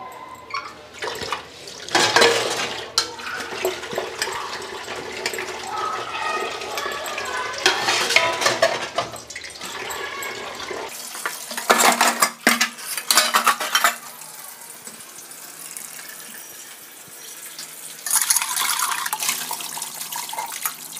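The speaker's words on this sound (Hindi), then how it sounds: "अब रसोई में आई हूँ, बर्तन धोऊंगी" Dishes being washed in a home kitchen sink piled with utensils, with clinking steel cutlery and plates, running tap water and scrubbing in irregular bursts, fairly close and with no talking.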